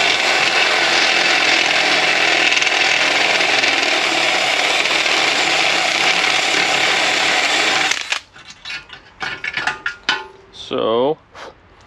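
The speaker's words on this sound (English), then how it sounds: "So we'll just drill this out a little." A power drill runs steadily and loudly for about eight seconds, boring out a socket in a car part on a convertible built from a wrecking-yard car, then cuts off into clattering handling noises.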